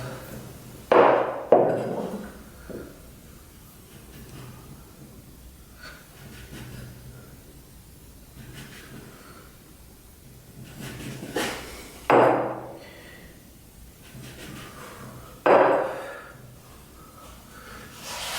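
A wine glass cuts rounds from thin homemade pasta dough on a board in Italy, giving a few sharp pressing thuds spaced far apart amid quiet handling noise.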